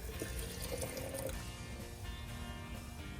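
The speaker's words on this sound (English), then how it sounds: "I'm going to add 1 cup of water and then stir." A cup of water is poured into a glass container holding borax, a close, steady trickle that shifts in pitch as it fills, fairly quiet.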